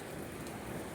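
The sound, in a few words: hail falling and pattering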